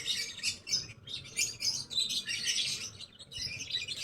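Birds chirp and tweet in quick, overlapping bursts among bonsai trees, bright and fairly close, continuing throughout with no talking.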